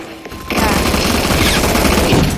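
Rapid automatic gunfire from a Roblox shooter game bursts in loud and dense after a brief quieter moment, continuing as a sustained crackling volley.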